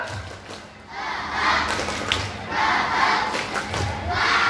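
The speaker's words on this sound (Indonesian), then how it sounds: "Yang kedua, tepuk semangat." A Scout troop at a routine Saturday practice performs a rhythmic spirit clap chant, a crowd of voices shouting together over patterned clapping and thumps in repeated bursts, moderately loud.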